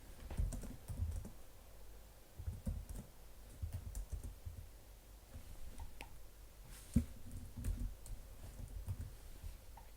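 Fingers type on a computer keyboard in quiet bursts of soft clicks and taps, pausing between runs, with one sharper key hit partway through.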